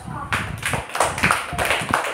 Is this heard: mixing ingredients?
no